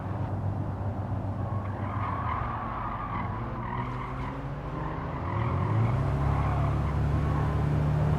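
Race cars in Gran Turismo 7 overtaking a Mini Cooper, with a steady loud engine drone and tire skidding throughout, the engine pitch climbing and swelling louder near the end.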